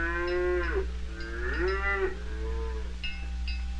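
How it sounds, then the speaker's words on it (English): Cows on a 1960s family dairy farm give several long, drawn-out moos in succession, clear and fairly close, over a steady low hum. "taking the cows to pasture"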